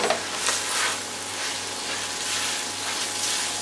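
Steak hash with potatoes stirred in a hot pan with a spatula for a sirloin steak and eggs breakfast: a steady close sizzle with soft scraping textures, fairly even in loudness throughout, no voices.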